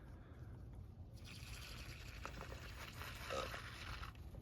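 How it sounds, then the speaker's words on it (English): Water is pushed from a syringe into a doll toy, a faint, steady hissing gurgle of liquid that starts after a second and carries on with small squeaky mechanical sounds. "Did you hear that? All that water going in there?"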